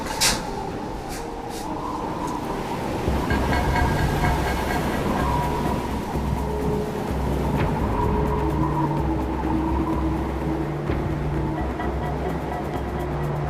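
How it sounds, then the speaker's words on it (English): Gale-force wind of 40 to 45 knots blows on the North Hecate Strait off Haida Gwaii, a loud continuous low roar with gusty swells and occasional sharp rattles or flaps, no talking. "We've got 40, 45 knot wind blowing, full gale."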